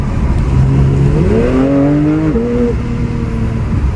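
A Porsche GT3 engine revving hard while driving, the pitch climbing through a gear, dropping on a shift, then rising again, loud and close with no talk.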